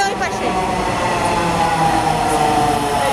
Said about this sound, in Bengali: উপরে যাওয়ার পরে মেট্রো ট্রেন আসতে একটু সময় লেগেছিল